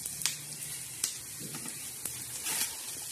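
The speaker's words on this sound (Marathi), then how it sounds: "तर छान असे धने भाजून घ्यायचे लालसर" Coriander seeds roasting in hot oil for a black masala, a soft low crackle broken by several sharp sputtering pops and light stirring, fairly quiet with no talk.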